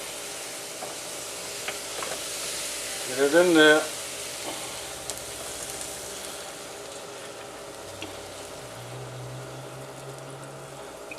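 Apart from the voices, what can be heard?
batter sizzling in hot oil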